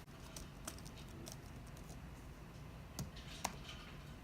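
Faint, sparse keystrokes on a computer keyboard as a command is entered at a serial menu on an ESP32 board, a few isolated clicks over a steady low hum, with no speech.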